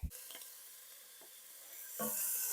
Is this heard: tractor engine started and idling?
no